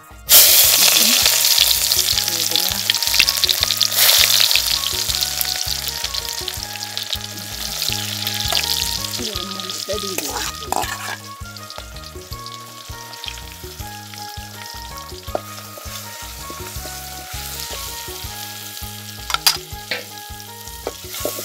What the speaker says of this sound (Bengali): তেল গরম হয়েছে, পেঁয়াজ গুলা দিয়ে দি